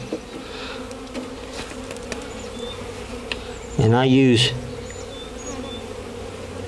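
Honeybees hum steadily around a hive, and one bee buzzes loudly right up close for a moment before drifting off. Someone speaks briefly.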